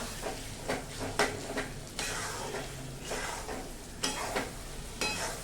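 An amla mixture for homemade chyawanprash is sautéed and stirred in a pan, giving a close, continuous sizzle broken by repeated scraping stirs, with no talk.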